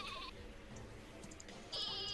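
Sheep bleat in the artillery game Worms W.M.D, two short high wavering calls, one at the start and one at the end, over a steady hiss of game background.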